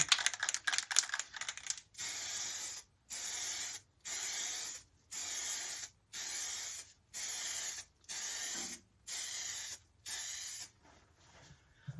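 Short bursts of aerosol spray paint on furniture hiss in a steady rhythm, about nine pulses separated by brief pauses, close and fairly loud after some faint tapping.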